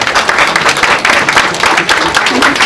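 Dense, steady audience applause at an award ceremony honoring heritage award recipients, a loud wash of many hands clapping together without a break.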